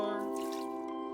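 A quick watery pour from a watering can onto plants in the video game Omori, a single short splash under sustained game music.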